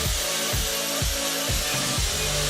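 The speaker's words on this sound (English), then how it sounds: "I'm using the grinder on some of the larger pieces." A grinder scours paint and rust from the larger parts of a classic car being restored, making a loud, continuous abrasive roar that swells in regular pulses about every half second.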